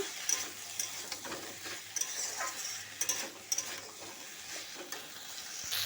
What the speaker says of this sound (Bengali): ভালোভাবে মিক্স করে নিচ্ছি